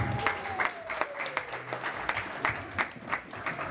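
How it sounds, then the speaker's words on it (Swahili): An audience claps in bursts of applause at a Congolese youth party in Baltimore, with sharp, uneven hand claps close by and a brief voice and faint tone underneath. "Makofi basi."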